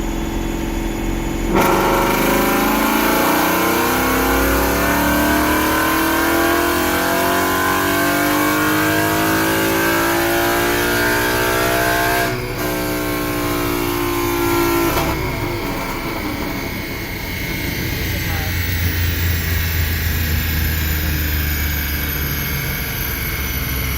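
A 2015 Ford Mustang fitted with an open-air intake element revs hard on a dyno. The loud engine note climbs steadily in pitch, breaks off briefly, then pulls again near the microphone with no talking.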